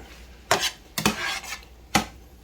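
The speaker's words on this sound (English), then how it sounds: "add some mayonnaise and mix it up" Mayonnaise being mixed into cheeseburger slider meat, with a few sharp clinks and scrapes of a utensil against a bowl in uneven bursts, close and fairly loud with no talking.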